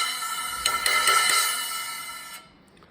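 A splash cymbal with white tape stuck underneath the bell, struck for low-volume theatre playing: a bright, shimmering wash with a few quick hits, ringing briefly at moderate level before dying out, heard alone.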